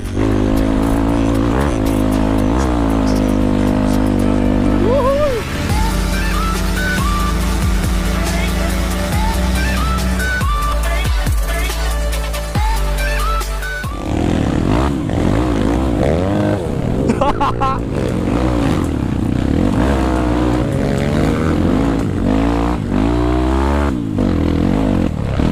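A dirt bike on an off-road trail through loose, soft, bumpy ground, its engine revving hard and loud throughout with clattering scrapes, gear changes and surging throttle bursts close to the rider.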